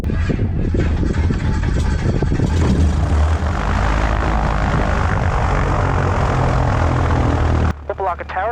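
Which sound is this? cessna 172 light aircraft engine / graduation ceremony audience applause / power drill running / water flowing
cessna 172 light aircraft engine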